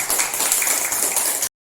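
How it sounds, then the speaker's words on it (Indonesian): Brief burst of dense applause from a classroom group, loud and steady for about a second and a half before cutting off abruptly. "tepuk tangan untuk semuanya"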